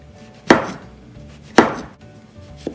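A knife cuts through a mushroom on a board while Bibimbap vegetables are prepared, giving two distinct, close chopping thuds a second apart and a faint third tap at the end, with no voices.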